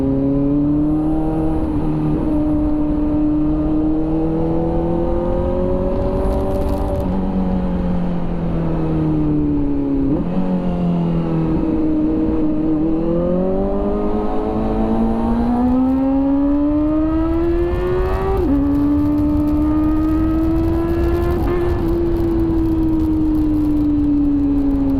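Kawasaki motorcycle fitted with an SC Project exhaust, ridden through traffic near a bridge, revving loudly with rising and falling engine pitch through gear changes, a continuous close exhaust note across the whole stretch.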